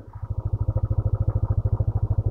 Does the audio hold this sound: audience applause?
no